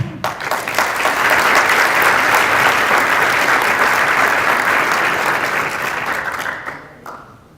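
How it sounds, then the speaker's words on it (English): Conference attendees at a learning analytics keynote applaud an award winner for peer review contributions; a thick, loud burst of crowd clapping swells quickly, holds steady, then tapers off abruptly near the end. "A quick applause for Stephen."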